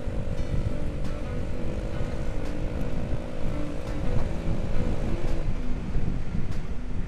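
A Honda Beat scooter with an RCB exhaust revs gently on a quiet road, giving a steady, loud, soft-toned engine drone with small throttle swells and some wind buffeting on the microphone.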